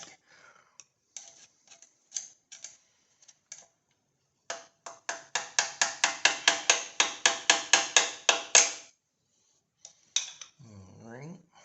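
Small tool taps on a wide crank kit part while it is seated, starting as a few scattered knocks, then a quick run of rapid, sharp taps, then a couple more, close up.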